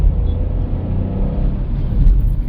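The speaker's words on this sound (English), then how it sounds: "the exhaust note of this car is really good" Skoda Slavia 1.0 turbo with manual gearbox pulling hard on a highway, its low engine and exhaust rumble steady and close throughout, with no talking.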